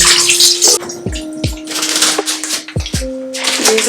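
Water splashes and rinses around inside a cooking pot at close range, mixed with light clinks and knocks of the pot.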